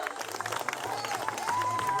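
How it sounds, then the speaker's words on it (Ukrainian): Audience applauding at an evening awards ceremony for a children's event: steady, dense clapping from a crowd sustained for two seconds, with some voices mixed in. "Ваші оплески"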